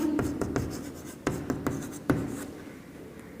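Marker writing on a board during a physics lecture on current electricity, a series of short squeaky strokes and taps in irregular bursts, close, with no talk.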